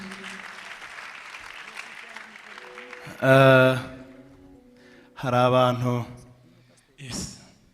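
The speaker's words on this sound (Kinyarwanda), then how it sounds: "reka duhuze ibiganza dukomere Imana yacu amashyi menshi" Applause from wedding guests at a ring-exchange ceremony and reception, a steady patter under loud bursts of voiced cheering and shouting that rise and fall three times.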